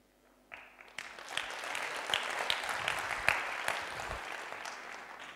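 An audience claps during a motivational talk on the power of the subconscious mind. Applause starts faintly, swells after a second into a dense, sustained wash of many hands with a few sharper claps, and stays fairly soft and distant.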